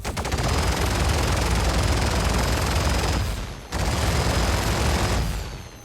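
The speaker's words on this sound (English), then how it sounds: "and if I fire them" Rapid automatic gunfire from the Hercules Starlifter C2's nose-mounted self-defense turrets in Star Citizen, a loud continuous burst that cuts off briefly just past three seconds, then resumes at full intensity.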